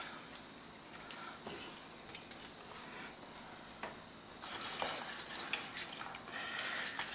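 Creamed spinach with Parmesan and cream cheese being stirred in a pot, soft continuous scraping and light utensil clinks, fairly quiet and close, with no voices.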